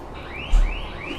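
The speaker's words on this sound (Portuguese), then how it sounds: "Olha o alarme do carro." A car alarm in The Amazing Spider-Man video game wails in repeated rising sweeps, moderately loud over a low background hum, with a brief thump partway through.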